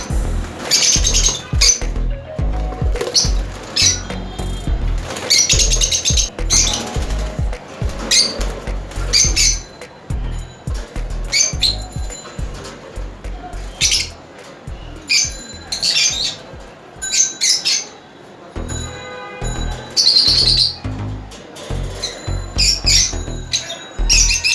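A colony of yellow opaline lovebirds, including red-eyed nine-month-old birds, squawks and chirps in sharp, overlapping bursts, loud and close, with short quieter gaps between busy flurries.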